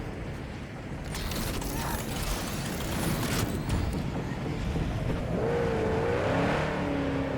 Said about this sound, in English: Trying to hit them with my car.